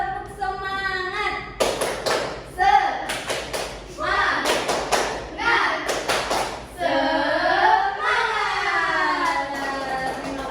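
A school class claps out a rhythmic "tepuk semangat" pattern in bursts of sharp hand claps, alternating with a teacher's voice and children chanting along.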